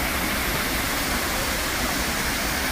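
Water splashes and rushes steadily at the Trevi Fountain in Rome, a dense, continuous wash of spray that fills the space with no breaks.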